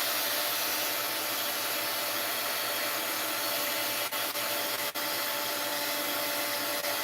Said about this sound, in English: let's clean off the back of the spoon